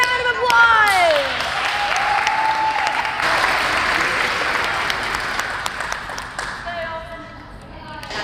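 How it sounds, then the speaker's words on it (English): Audience at a cheer camp event breaking into loud, sustained applause and clapping, with whoops and a voice over the crowd, the clapping fading slightly toward the end. "Everybody give them a huge round of applause."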